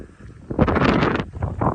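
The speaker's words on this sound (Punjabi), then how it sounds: "ਅੱਜ ਤਾਂ ਹਵਾ ਚੱਲੀ ਜਾਂਦੀ ਵਧੀਆ" Wind blows across open farm fields, a rough broadband rush that swells into a strong gust near the microphone, eases briefly, then rises again.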